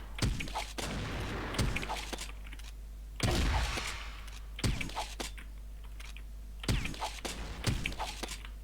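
Rapid gunfire in a shooting video game comes through as sharp repeated bursts over a steady game hum, loud and close, with clusters of shots spread across the stretch and no voices.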